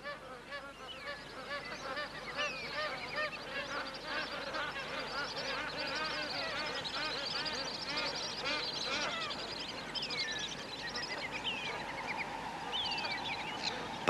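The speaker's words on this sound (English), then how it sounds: "the gregarious pied geese are busily upending for food" A dense, continuous chorus of honking magpie geese in Australia, many birds calling at once close by, with overlapping nasal honks throughout.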